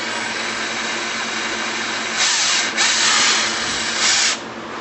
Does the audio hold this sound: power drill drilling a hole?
yes